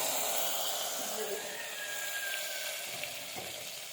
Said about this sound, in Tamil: அதில் இந்த கொதிக்கிற எண்ணெயை சூட்டோடையே நம்ம இதில் ஊற்றிடுவோம்